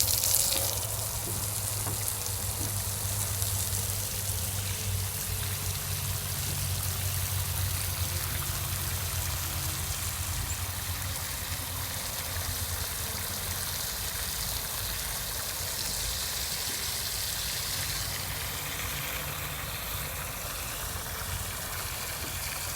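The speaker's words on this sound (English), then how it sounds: "Let's fill it up with water." Water runs steadily from a hose or tap into a birdbath, a constant rushing splash that continues unbroken for the whole stretch.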